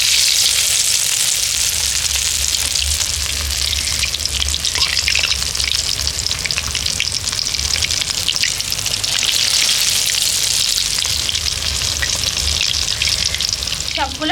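Pumpkin leaf rolls deep frying in hot oil, a loud, continuous crackling sizzle that swells and eases in waves, with occasional stirring and no talking.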